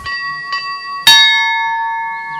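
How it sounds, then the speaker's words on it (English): A bell rings for prayer in a religious community, one struck tone followed by a louder strike that rings out with a long, sustained metallic hum, close and clear with no talk. "5 times a day, a bell rings"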